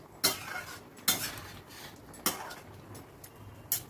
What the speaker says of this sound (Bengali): কতগুলো মাছের ডিমের কোপ্তা আমি ডালের ভেতর দিয়ে দিলাম, দিয়ে এগুলো একটু নাড়াচাড়া করে মিশিয়ে নিচ্ছি।